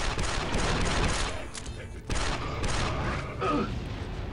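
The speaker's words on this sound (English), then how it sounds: "Oh, this is a grenade launcher, I think." Grenade launcher firing during a Star Wars Republic Commando firefight with droids, dense loud booming blasts and mechanical clatter running continuously with a voice talking over it.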